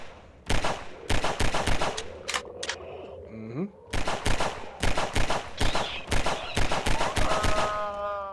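Half-Life 2 gunfire aimed at a small, fast enemy rings out as repeated loud, sharp shots in quick volleys, with a short pause and a few mechanical clicks and whirs between bursts.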